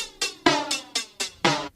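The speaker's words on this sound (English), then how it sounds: "And then there's a low cut EQ and a flanger on top of it." A song's intro percussion sample with its lows cut and a sweeping flanger on top: six even, thin, swishy hits in steady rhythm, each with a metallic comb-filtered shimmer. It is close and alone.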